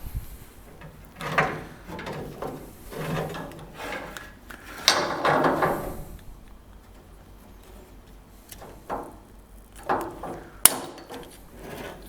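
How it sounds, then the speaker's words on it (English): Cutter from a brass DOT air brake line fitting kit snipping through air brake tubing, heard as several scattered clicks and snaps over about twelve seconds with quiet handling noise between them. "I'm just going to cut the line with the cutter that came in the kit"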